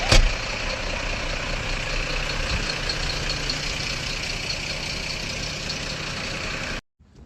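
A truck engine idles steadily and loudly up close, a constant rumbling drone that cuts off abruptly near the end.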